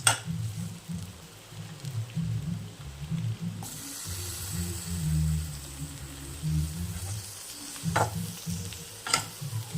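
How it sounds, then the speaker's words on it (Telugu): Masala for goat brain curry fries in a pan, with a soft continuous sizzle and repeated scraping, clattering strokes of a spoon stirring close by, and a few sharper knocks near the end. "ఇలాగా బాగా వేయించుతూ ఉంటే మసాలా వాసన పోయే వరకు వేయించుతూనే ఉండాలి కంటిన్యూగా."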